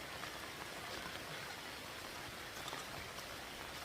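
Steady rain falling on a rainy morning, a faint, even hiss of water with no distinct drops and no voices.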